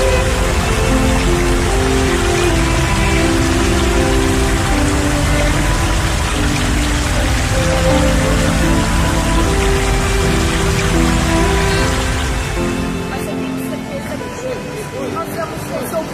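Heavy rain in Rio Grande do Sul, Brazil, pours down as a dense, loud, steady hiss with a faint tonal layer beneath it, then tapers slightly near the end.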